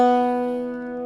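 Short ringing tones from an Irish bouzouki sounding the opening measure of an A section, sustained strings decaying gently, close and alone.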